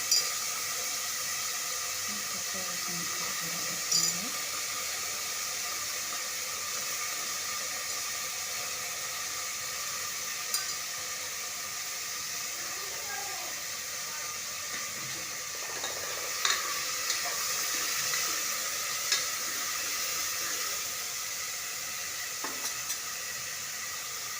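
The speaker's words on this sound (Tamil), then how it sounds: "கட் பண்ணி வச்சுருக்க காய்கள் போட்டு சிறிது நேரம் வதக்கணும்" Chopped vegetables sauté in a pan with a soft, steady sizzle and hiss throughout, punctuated by occasional light stirring taps and scrapes.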